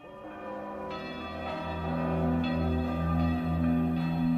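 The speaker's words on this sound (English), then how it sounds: "Ring your bells like crazy" Church bells ringing loudly and continuously, strong repeated strikes with long ringing overtones layered on one another, steady and full with no voices.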